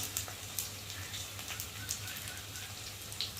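Ginger and garlic paste go into potatoes frying in hot oil, producing a steady, rain-like sizzle dotted with small crackles and pops at close range.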